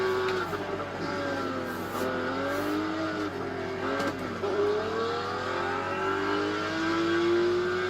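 A car's engine revs hard under heavy acceleration with too much torque, a loud, continuous drone that rises and shifts in pitch for the whole stretch, with no talking.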